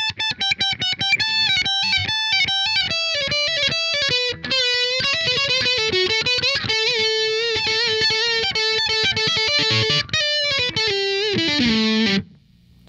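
A Gretsch Streamliner electric guitar played through heavy distortion and high gain rings out alone in quick runs and sustained notes, loud and bright, ending on a low held note.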